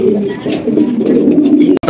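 Mili racer pigeons kept with their squabs coo close by in a soft, continuous rolling murmur, with a brief clatter near the end.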